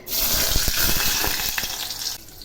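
Cumin seeds, two bay leaves and three chopped onion pieces hit half a cup of hot oil with a loud, bubbling sizzle that stays full and close, with scattered crackles before it eases off near the end.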